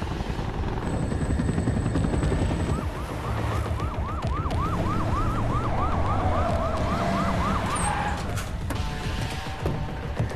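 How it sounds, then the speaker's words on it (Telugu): An ambulance siren wails in a rapid, repeating up-and-down pattern at middle distance, sounding over a heavy, loud rumble of vehicles and engine noise. "మీ అంబులెన్స్ రెడీగా ఉంది"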